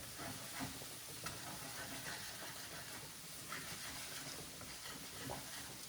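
Large Costco eggs frying in a pan give off a faint, steady sizzling hiss with occasional soft pops, heard alone.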